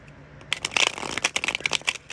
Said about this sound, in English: I wonder if y'all can still hear that shuffling.